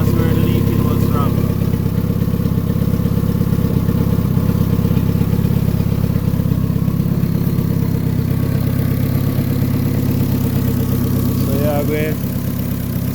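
A car engine runs steadily at idle on its first start-up after an ATI damper pulley install and power steering delete, a constant low rumble throughout with someone talking briefly over it.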